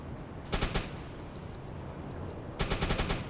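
Ship guns firing shells in a naval battle video game, heard as two quick bursts of rapid, sharp reports about two seconds apart over a quiet, hissing background.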